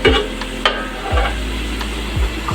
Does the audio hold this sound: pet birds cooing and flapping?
no